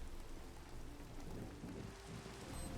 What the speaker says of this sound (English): The thunder gets pretty loud,